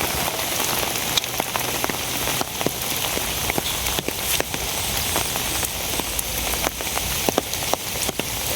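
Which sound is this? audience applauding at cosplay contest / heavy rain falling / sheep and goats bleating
heavy rain falling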